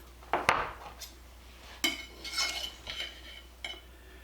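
A knife cuts cooled cornbread on a plate, giving a few sharp clinks and taps against the plate followed by soft scraping and crumbly cutting sounds, close and fairly quiet.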